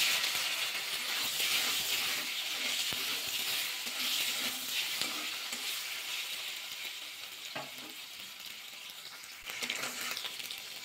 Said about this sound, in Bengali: প্রথমে পনিরটা ভাজা করে নেব।